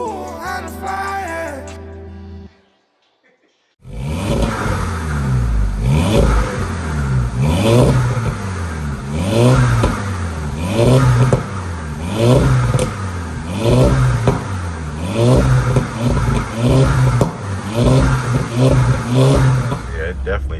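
A VW Mk5 GTI with a new downpipe and stage 1 mods revs over and over in rising and falling pulls, loud and close, after a short burst of music and a brief silence.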